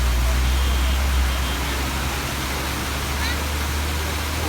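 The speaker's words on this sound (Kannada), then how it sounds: "on the way via Sakleshpur ಒಂದು ಬ್ಯೂಟಿಫುಲ್ ವಾಟರ್ ಫಾಲ್ಸ್ ಇದೆ" Waterfall near Sakleshpur, a steady dense roar of falling water heard continuously and fairly loud, with no clear speech standing out.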